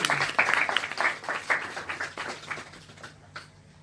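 Audience applause at a product launch event for a body toning pill, a burst of close, crisp clapping from a modest crowd that thins out into scattered claps over about four seconds.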